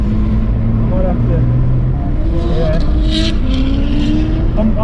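A BMW E92 335i on stock turbos drifts with a fitted new differential, its engine revving loud and close with rising and falling pitch as the handbrake is pulled, tyres scrubbing underneath throughout.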